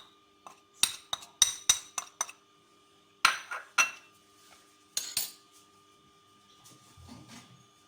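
A metal spoon scrapes and clinks against a dish while mixing spices such as ginger, turmeric and pepper, giving a series of sharp close taps and scrapes in irregular bursts, then a softer stir at the end.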